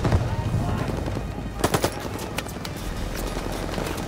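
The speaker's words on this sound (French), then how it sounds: "encerclez cette mitrailleuse" Machine gun bursts crackle in short rapid volleys during a Call of Duty Vanguard firefight, cutting through a dense background of battle noise and a shouted voice.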